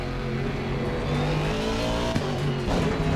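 An Aston Martin V8 GT3 race car in Assetto Corsa Competizione at Circuit of the Americas, its engine droning loud and steady at high revs with faint tyre squeal and no talk.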